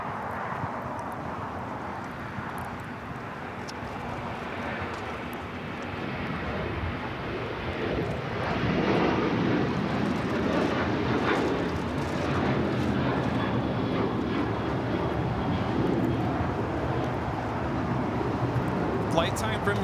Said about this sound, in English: Next arrival is at A380 coming in from Munich.